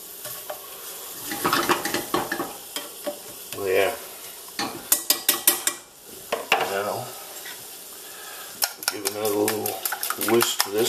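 Lobster pieces sizzle in melted butter in a pan for scrambled eggs and lobster, with repeated scraping stirs and clinks of a utensil against the pan, close and fairly loud, no talking.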